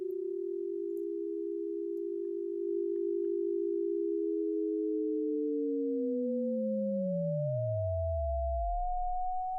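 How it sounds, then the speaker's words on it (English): A steady synthesizer sine tone with a tremolo effect, which then splits into two copies that glide apart in pitch, one rising and one sinking into a deep low rumble, sustained and clean throughout. "this is creating this tremolo effect on this sine wave here"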